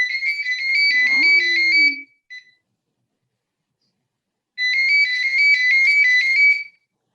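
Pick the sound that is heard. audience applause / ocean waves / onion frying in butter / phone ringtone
phone ringtone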